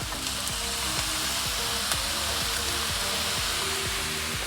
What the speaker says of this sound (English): I'm gonna add a tablespoon of light soy sauce